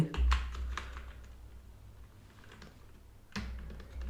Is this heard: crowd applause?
no